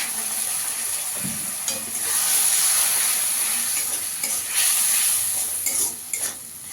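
Spice masala with coriander powder, salt and a splash of water hisses and sizzles in a pan for egg dhoka dalna, with intermittent spatula scrapes over a loud, continuous frying noise up close.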